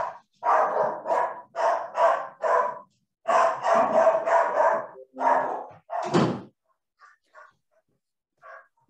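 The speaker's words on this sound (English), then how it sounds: "This is my dog." A dog barks close by in a home during an online committee meeting, giving two rapid series of sharp, loud barks with short pauses, then a few faint trailing yips.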